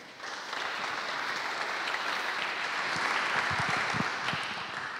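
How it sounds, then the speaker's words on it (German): At a startup pitch competition, the audience applauds, with clapping swelling in after a brief pause and holding steady at moderate loudness to the end. "bitte um Applaus."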